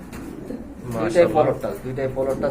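A full mundian pigeon coos close by in a series of soft, throaty repeated notes, with a person talking over them.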